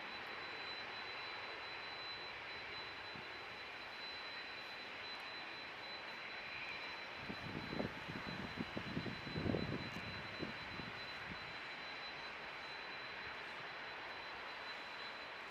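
Virgin Atlantic airliner named Diamond Girl, a faint, distant jet rumble with a brief swell of engine noise in the middle before it settles back into the background.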